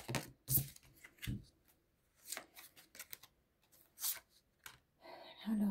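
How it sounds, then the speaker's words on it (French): Oracle cards being shuffled and drawn, giving a few soft, brief papery riffles and flicks at close range, spaced between quiet gaps, with a faint murmur of talk in the background. "Allez, on va tirer une autre carte."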